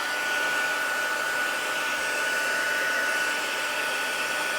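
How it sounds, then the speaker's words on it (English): A handheld craft heat tool blowing on a watercolour card, a steady, close whooshing hum with a faint high whine that runs unchanged throughout, with no talk. "And then I'm just going to grab my heat tool."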